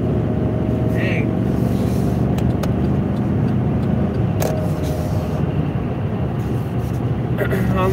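A car cruising on the interstate, a constant low road and engine rumble inside the cabin with a few faint clicks and creaks on top, steady and fairly loud throughout.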